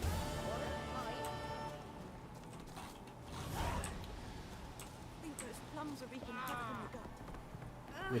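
Hooves clip-clop in a steady rhythm against creaks and mechanical clatter in the video game The Witcher 3, fairly quiet, with a voice talking over parts of it.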